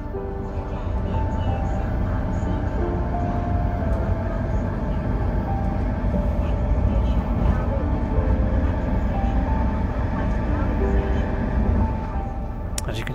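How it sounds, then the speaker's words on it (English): Steady rumble of the Hong Kong Airport Express train heading to Kowloon Station, a continuous low drone with faint tonal whine and rattling from the carriage, heard from inside throughout with no break. "caught the airport express to Kowloon Station"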